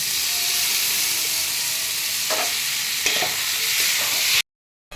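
Spice masala frying and being stirred in a pan for a dhaba-style egg tadka: a steady close sizzle with a few scraping stirs partway through, then an abrupt cutoff near the end.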